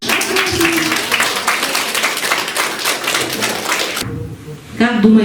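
Audience at a public meeting in Yakutia bursting into loud, dense applause for about four seconds, a crowd of clapping hands close by, then fading as a voice begins speaking.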